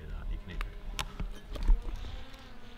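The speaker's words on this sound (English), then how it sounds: "we've probably just given our position away by the sound of that drone" A small camera drone buzzes near an abandoned school, a faint whining hum mixed with footsteps, rustling and scattered knocks.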